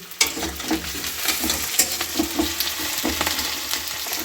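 Onions fry and sizzle in a pan with occasional stirring scrapes, loud and close, with no talking.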